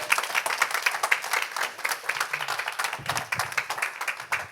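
A church congregation at a Sunday worship service breaks into sustained, dense applause that fills the room, with faint voices underneath.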